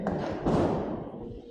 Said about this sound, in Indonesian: suara petasan masih terdengar ya